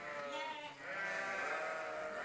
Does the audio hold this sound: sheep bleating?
yes